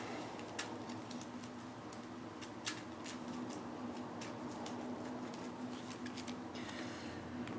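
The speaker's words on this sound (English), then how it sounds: "And we get a darkness card. Let me shuffle them." A deck of darkness cards from the Shadows of Brimstone board game is shuffled by hand, a faint run of crisp card riffles and light ticking snaps spread across several seconds over a low steady hum.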